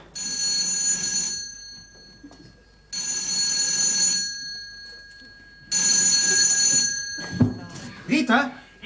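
Three loud bursts of an old-style electric telephone bell ringing in a room, each lasting over a second with pauses between, followed by a clunk and a voice speaking.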